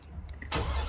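2003 GMC 2500HD gasoline V8 cranking after a fuel injector replacement, a brief starter whir that catches and jumps into a loud engine roar within a second.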